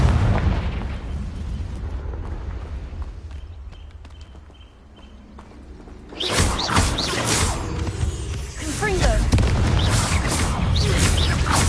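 A Confringo blasting spell in Hogwarts Legacy erupts in loud bursts and booms after a quieter lull, with several explosive impacts and crackling debris toward the end.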